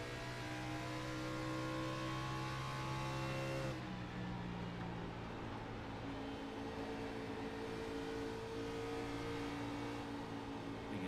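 Race car engines drone under throttle in a Darlington Xfinity Series sim race, a steady layered hum of several motors with one tone dropping away partway through, far and fairly quiet.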